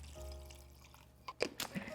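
Half a cup of water is poured into a blender with other ingredients for plant-based crab cakes. Low hum and quiet handling come first, then a short run of splashing and dripping near the end.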